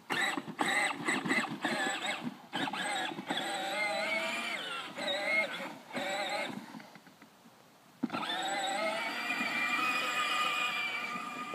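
A small John Deere motorised ride-on tractor runs near and steadily, its motor whine rising and falling as it is driven, with a brief quieter gap before it surges back loud.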